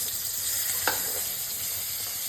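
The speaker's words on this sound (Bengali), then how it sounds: "তো বেগুনটা মোটামুটি আমার ভাজা হয়ে গেছে" Eggplant fries in a pan with a steady, close sizzle and a single light scrape or tap partway through.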